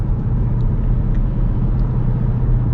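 A 2023 Dodge Durango Hellcat, a three-row family SUV, cruises with a steady, loud low engine rumble and road drone throughout, no voices over it.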